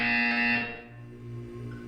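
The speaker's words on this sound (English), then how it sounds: "You will hear a buzzer." A loud electronic test chamber buzzer from Portal 2 sounds for about half a second, then cuts off, leaving a low hum.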